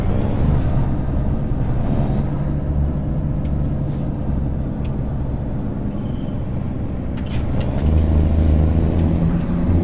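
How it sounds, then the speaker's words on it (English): A truck in a driving simulation game sits idling with a low rumbling engine, punctuated by sharp hissing air bursts as the parking brake releases, followed by a rising whine; no one speaks. "I'm just going to take the parking brake off"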